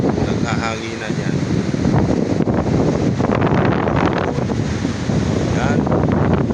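Strong wind gusting over the sea at night at Dingalan, Aurora, a steady broadband rush with buffeting on the microphone and surf underneath, while voices talk faintly over it.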